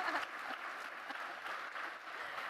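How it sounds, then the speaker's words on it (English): Scattered audience clapping at a Microsoft Teams conference session, moderately quiet and fairly even, with a louder burst of claps at the start. "Okay, make us look good, guys. Clap."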